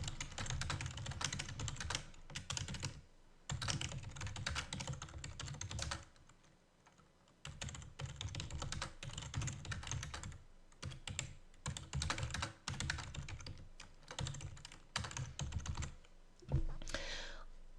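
Typing a page description on a computer keyboard, with bursts of rapid, close key clicks broken by short pauses, while someone talks over parts of it.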